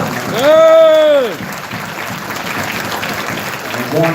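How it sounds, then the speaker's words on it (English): Applause rising from an audience at a Hebrew Israelites summit in Atlanta, honoring the elders, with a loud voice calling out over it at the start before the clapping settles into a steady wash. "Give these men a round of applause, man."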